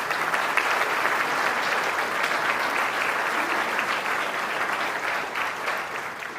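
A room full of people claps for the city council at a State of the City address, loud, dense and continuous, holding strong before easing slightly at the end, with no talking over it.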